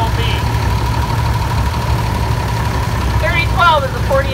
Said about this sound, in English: 3012 is a 48 Allen Chalmer tractor WD, owned by Dale Finstrom from Fertile.